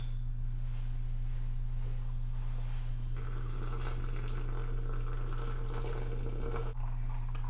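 Hot water at 185 degrees being poured into a French press, a soft continuous trickle and gurgle over a steady low electrical hum, with no talking.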